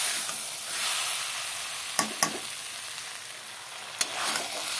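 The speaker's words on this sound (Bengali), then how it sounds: "দেখো মশলার সাথে কষিয়ে নিয়েছি, আরও কষাবো।" Taro stolons fry with spices in a pan, a quiet, even sizzle broken by a few sharp clinks of a stirring spoon against the pan, no talking.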